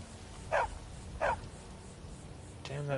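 Two short, sharp barks from a dog in Skyrim, about a second apart, moderately loud over a low background hum, followed by a brief tonal sound glitch.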